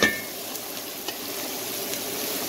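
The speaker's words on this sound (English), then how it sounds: "I'm going to just saute a little bit" Food sautéing in oil in a pan, a steady soft sizzle with a few faint clinks, close by and with no talking.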